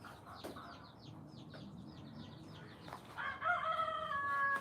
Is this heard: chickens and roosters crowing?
yes